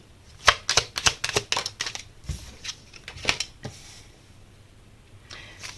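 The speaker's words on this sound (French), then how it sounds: "je vais tirer les autres cartes" Tarot cards drawn and laid out one by one during a sentimental reading, giving a quick run of crisp close snaps and flicks, then a few scattered taps that fade into near silence.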